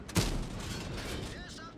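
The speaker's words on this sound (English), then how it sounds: "Alright, I'm gonna try to shoot across here." A tank gun fires once in World of Tanks, a sharp close boom followed by a rumbling decay that lingers under game background noise.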